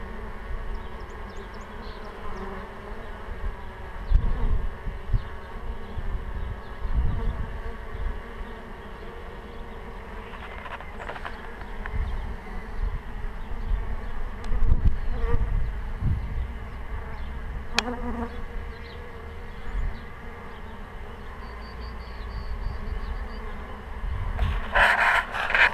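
Honey bees collecting April pollen buzz steadily at close range, a dense layered hum that swells and dips, with no talking.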